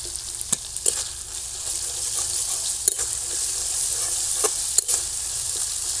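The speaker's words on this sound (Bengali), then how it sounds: "মশলাটা এরকম লাল লাল করে ভালো করে কষা নিতে হবে" Spice paste frying in oil for a cauliflower stalk curry, a constant bright sizzle with a few sharp clinks and scrapes of stirring scattered through it, with no one talking.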